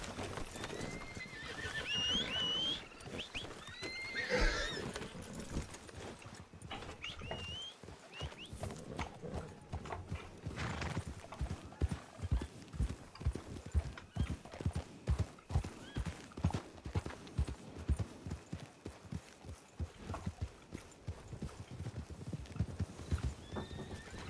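Horses in the RedM roleplay game, set in 1920, clip-clop in a steady trotting rhythm with neighs and whinnies early on. Hoofbeats grow regular and prominent later.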